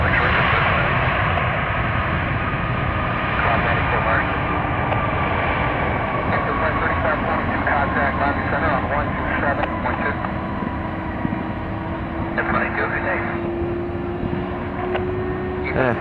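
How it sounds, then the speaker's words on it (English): A Boeing 757-300 jet airliner lands at an airport, its engines a steady, broad roar at a moderate distance with a slowly shifting whine as it rolls out. "Somewhat anticlimactic landing."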